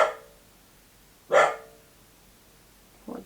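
A pet dog barks in a home, three sharp separate barks spaced across a few seconds, fairly close and loud against a quiet room with no talking.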